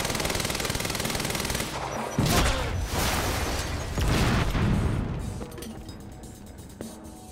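Sustained machine gun fire in Quantum Break, a dense rattling burst under loud game noise, with booming impacts in the middle that fade toward a quieter tail.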